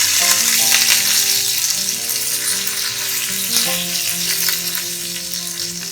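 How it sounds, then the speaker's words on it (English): Curry leaves fry in hot oil with mustard seeds that have already spluttered, making a loud, dense, close sizzle that stays steady throughout, with a slight surge partway and no speech. "Once the mustards have spluttered, we'll add in the curry leaves."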